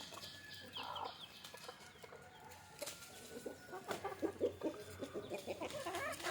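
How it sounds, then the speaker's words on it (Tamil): Chickens, including a hen fighting a rooster, cluck and squawk nearby at a native-chicken coop, the sounds growing busier and more agitated toward the end over a low background hum. "சாதா ஒரு பொட்டை கோழி ஒரு சேவலை சண்டை போடுதா பாருங்க"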